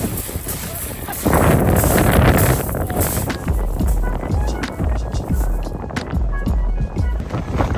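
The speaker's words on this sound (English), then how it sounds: "we just got down to a very windy, blustery Chesil Beach" Strong wind buffets the microphone in loud, roaring gusts on Chesil Beach in a storm, with crunching steps on shingle throughout.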